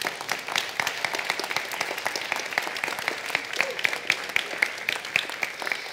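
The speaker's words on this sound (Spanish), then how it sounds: "¿Cuánto le da un aplauso al Señor?" A church congregation applauds the Lord, a steady moderate patter of many hands clapping through the whole stretch, with faint voices mixed underneath.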